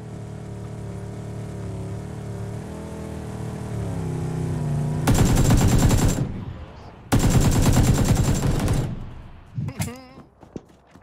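Gunfire in PUBG: two long, loud bursts of rapid automatic shots a couple of seconds apart, each cutting off abruptly, following a humming engine and ending with a few scattered thuds as a voice talks.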